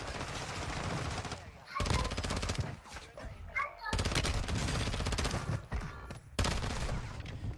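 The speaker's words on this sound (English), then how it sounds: "Why are you shooting me third party?" Rapid video game gunfire from an online battle royale match, bursts of automatic weapon fire in several loud volleys with short gaps between them.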